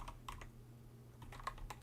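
Quiet, close typing on a Kinesis Advantage 360 split keyboard: irregular clusters of soft key clicks and taps, with short pauses, under a faint room hum.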